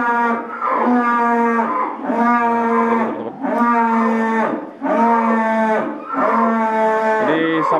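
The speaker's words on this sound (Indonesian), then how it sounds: "sapi-sapi breeding yang ini." Breeding cattle in a pen moo in long, loud, sustained calls, about five in a row with brief gaps between them, close to the listener.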